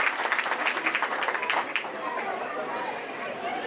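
An audience at a school annual day claps for young kindergarten performers, a burst of dense applause that is loudest at first and then settles into a softer, steady patter mixed with crowd chatter.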